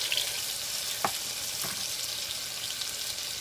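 Steady, bright sizzling of ginger garlic paste frying in a hot pan, a continuous hiss with a couple of faint clinks of a utensil.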